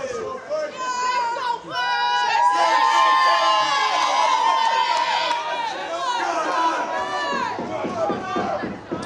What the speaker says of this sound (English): it's a very nice little crowd here.